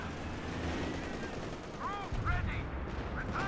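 Machine gun fire and other gunfire in the video game Company of Heroes 2 rattle through a steady battle din, with a dense, continuous mix of shots and explosions at fairly low level.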